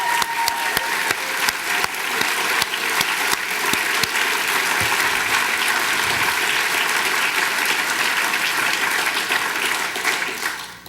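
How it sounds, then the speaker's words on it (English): An audience at an awards ceremony applauds for about ten seconds, a dense, steady roar of many hands clapping that tapers off at the end. "give one more round of applause to all 10 recipients tonight"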